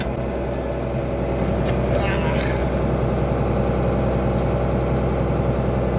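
Farm tractor engine idling steadily nearby, a continuous low rumble throughout with a faint higher whine briefly rising over it.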